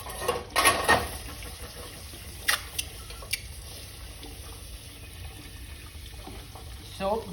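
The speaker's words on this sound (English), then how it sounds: "So water is running there." Tap water running onto a heated steel Jominy quench test sample in a lab, a steady hiss with a few louder splashing bursts near the start and a voice briefly in the background.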